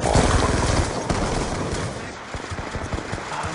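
Gunfire from a Call of Duty Black Ops 2 multiplayer match, loud rapid bursts up close at the start, then fading into scattered shots and game noise.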